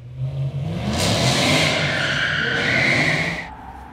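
A BMW E92 M3 with an M Performance exhaust, test pipes and a Gintani tune revs up close and loud, climbing to a sustained roar before easing off.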